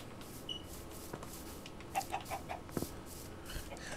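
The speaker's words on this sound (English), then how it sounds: "There's another chicken." Chickens in the video game Minecraft give a few soft, quick clucks at a distance, a brief cluster of short chirping notes against a low ambient background with no talk.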